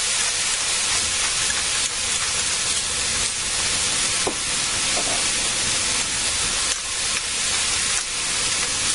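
Beef and onions sizzle on the sauté setting of an Elite Infinity cooker: a steady, loud broadband hiss that runs without pause, with a few faint clicks and no voices.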